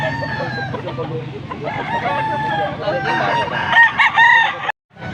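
A fighting rooster crows loudly and close, its long harmonic call rising and stretching over several seconds amid low background clucking and murmuring, before cutting off abruptly.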